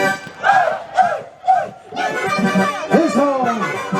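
A crowd shouts and cheers in bursts at a farewell during a 2023 folk dance ensemble final, with loud rhythmic collective yells rising and falling close by.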